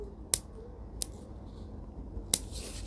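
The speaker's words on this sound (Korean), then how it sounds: "가위로만 전정을 해 볼게요." Scissors pruning the branches of a flowering quince bonsai: three sharp, crisp snips spaced unevenly apart, close and fairly quiet over a soft background hiss, with no talking.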